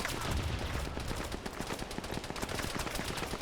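Grenade launchers in a large Warhammer 40K multiplayer battle, rapid repeated thumping shots firing steadily at mid distance, dense and continuous with no talk.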